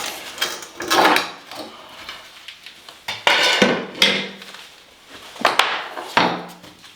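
Prying a loose tile off a tiled shower wall during a bad waterproofing repair: a close series of sharp knocks, cracks and scraping bursts in uneven clusters.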